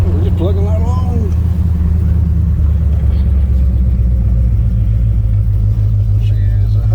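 A turbocharged Chevy Nova cruising on the road, its engine a steady low rumble with a constant droning hum throughout, while people talk inside the car over it.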